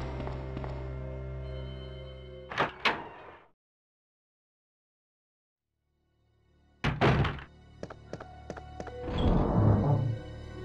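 Trunk used as an item box in the Resident Evil 2 video game, opening with a pair of sharp wooden thunks. A stretch of silence follows, then more clunks and a rustling clatter as the lid settles.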